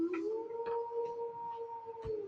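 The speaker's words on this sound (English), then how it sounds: "this dog has been outside barking" A dog outside lets out a long, steady, tonal howl that holds one pitch for a couple of seconds, moderately loud and slightly distant, with a few faint clicks and thumps around it.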